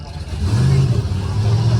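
A Porsche engine revs loudly in a busy outdoor car-event setting, a steady low rumble rising and holding for under two seconds with crowd voices mixed in.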